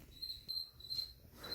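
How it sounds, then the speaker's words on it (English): A steady, faint high-pitched cricket chirp repeats in short bursts against a quiet kitchen background. "I really wish that cricket would shut up."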